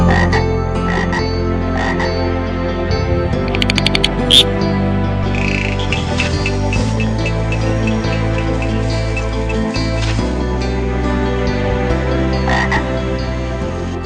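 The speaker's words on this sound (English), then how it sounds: "it is an entirely a new species of toad that's scientifically known as bufo" A toad of a newly discovered Bufo species croaks loudly and close by in repeated, rhythmic croaks, with a few sharper drip-like calls mixed in and no talking.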